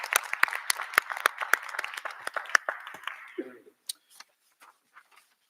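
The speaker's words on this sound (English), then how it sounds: "Let's give them a round of applause." Scattered applause from a small group at a school board meeting, separate claps that thin out and fade, with a brief voice in the middle and a few last isolated claps.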